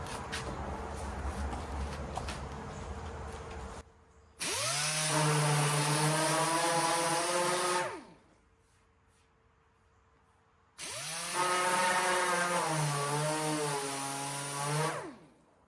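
Two long bursts of a loud, whining power sander on a 1950 Farmall H tractor run steadily for several seconds each, separated by pauses, with rough grinding noise before the first.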